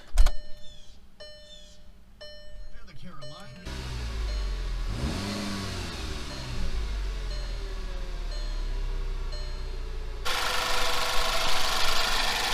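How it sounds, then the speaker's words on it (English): A Volkswagen Mk6 car engine cranks and catches, then settles into a steady idle close by, with a brief rev and a louder rush near the end. "Give her a start up and see how she sounds."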